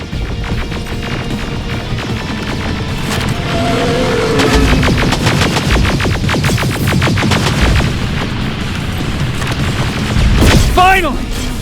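Gunfire in the video game Terminator: Resistance, a sustained loud barrage of rapid shots and booming blasts during a fight against a rebooting machine, with shouting voices mixed into the dense, continuous din.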